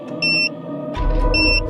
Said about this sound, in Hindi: इसमें तो बॉम्ब है। हाँ इसमें तो 15 मिनट का टाइमर लगा है